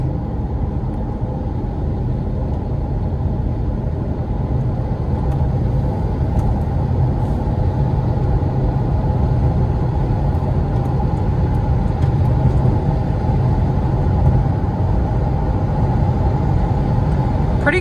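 A 2002 Lexus SC430 hardtop convertible drives and accelerates, giving a loud, steady engine and road rumble from inside the cabin with no break.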